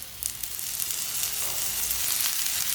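Pizza roti fries in oil on a pan, giving a continuous close sizzle with faint crackles and a brief stir, with no voices.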